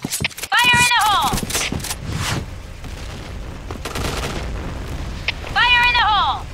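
Grenade blasts and gunfire in the Point Blank shooter game rumble and crack loudly and close, with overlapping bursts while voiced radio calls play in between.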